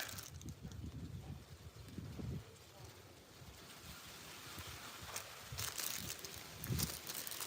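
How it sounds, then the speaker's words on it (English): Outdoor wind rumbling and buffeting in uneven gusts, fairly faint, with a muffled voice now and then underneath. "It's quite windy out here."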